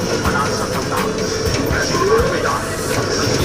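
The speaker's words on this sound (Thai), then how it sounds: "นั่งรถไฟทัวร์แอฟริกาครับ" Tour train carrying visitors through the Africa safari section of a zoo rolls along steadily with a continuous rumbling, rattling rail noise throughout, while people chatter nearby.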